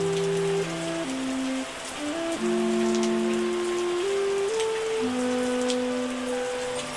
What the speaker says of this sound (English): Man, it's raining again.